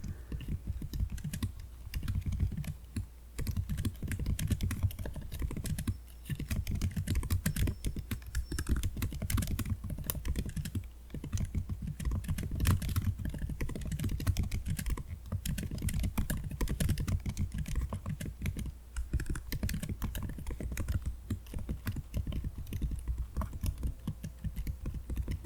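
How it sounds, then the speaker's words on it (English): Typing on a computer keyboard, a continuous close-up patter of soft key clicks and taps at a steady, quick pace with no talking. "Yeah, sorry, I'll try to type a little bit slower."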